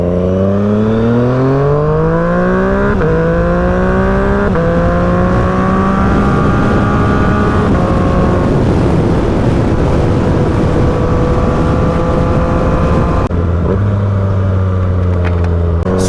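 A Yamaha FZ-09 motorcycle runs down a highway, its engine loud and close, climbing through rising revs with quick upshifts, then settling into a steady drone at cruising speed, with no talk.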